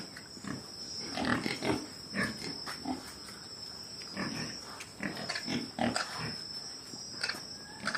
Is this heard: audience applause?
no